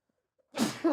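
A single sharp sneeze from a person, loud and close, bursting out after near silence with a brief trailing breath.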